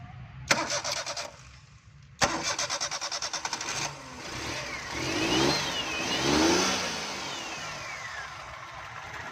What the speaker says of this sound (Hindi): अब हम गाड़ी को स्टार्ट करेंगे जी।